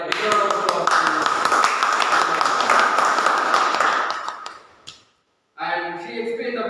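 A round of applause at a Toastmasters club meeting, dense steady clapping from a room of people lasting about four seconds before fading into silence. Then a voice starts speaking.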